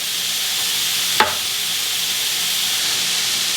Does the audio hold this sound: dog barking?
no